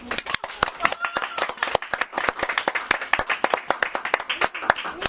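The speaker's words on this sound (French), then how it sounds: "On accueille Coralie les amis, on applaudit très fort." A studio audience claps to welcome a guest painter onto a French show, with sharp, close individual hand claps in a quick, uneven rhythm that continues steadily for about five seconds.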